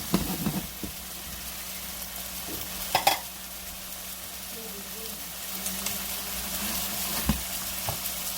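Steak strips and vegetables for loaded steak subs fry on high heat, a steady nearby sizzle with occasional utensil scrapes and clanks while a voice murmurs faintly in the background.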